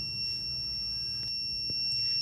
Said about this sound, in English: the LED start glow and buzzer start sound